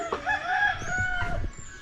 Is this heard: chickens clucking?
yes